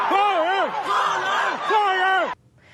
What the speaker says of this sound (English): The crowd was heard chanting, "Release us, release us."